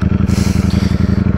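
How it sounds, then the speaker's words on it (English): A Ducati Streetfighter motorcycle engine idles close by with a steady, throbbing low pulse, each firing beat evenly spaced, loud and continuous with no voices over it. "I'm in love with a beautiful Ducati."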